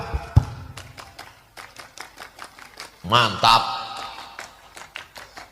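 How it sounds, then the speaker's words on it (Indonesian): A crowd of Pramuka scouts claps a rhythmic scout clap at a large Islamic tabligh akbar gathering, with sharp, evenly spaced claps running through the clip beneath a man's speech. "tepuk pramuka"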